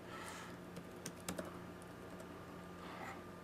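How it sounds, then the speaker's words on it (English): Faint, quick keystrokes on a computer keyboard, a handful of light clicks over a steady low room hum with no talking. "if you go to YouTube, we'll just type in"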